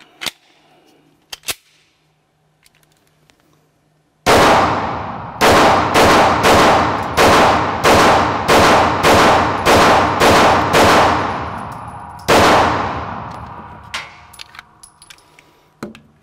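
Smith & Wesson Equalizer pistol fired on an outdoor range: a rapid string of about a dozen loud, sharp cracks with short gaps and echoing decay, preceded by faint handling clicks and followed by quieter clatter.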